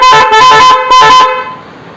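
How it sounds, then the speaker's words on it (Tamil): A Roots melody-maker car horn blares right after a two-way switch is changed, three loud, bright tonal blasts in a rising-and-falling rhythm, close and harsh, with the last one trailing off into a brief ring. "இப்போ சுவிட்சை மாற்றினா அந்த ஹார்ன்."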